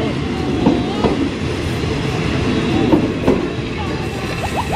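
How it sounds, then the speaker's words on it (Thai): A train rumbles past close by at Bang Pa-in railway station, with rhythmic clattering of wheels over rail joints and occasional squeals, while people talk in the background. "โห รถไฟก็ไป"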